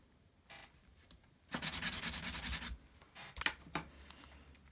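Quiet back-and-forth sanding strokes rasp against a sterling silver ring, sanding it flat, with a sustained burst of rapid rubbing in the middle and a few short scrapes after.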